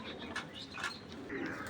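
Pigeons, including red checker and big racing birds kept in a coop, give soft low coos that sit faintly in a quiet background.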